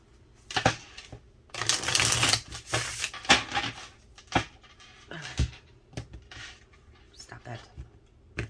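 Tarot cards are riffled and shuffled in several quick bursts, close up, with crisp flapping and tapping between them.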